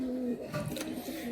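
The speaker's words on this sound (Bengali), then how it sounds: "এটা হচ্ছে আমার শখের এক জোড়া পায়রা," Pigeons cooing close by, a soft low throaty coo with a brief rise, heard alone in a short burst.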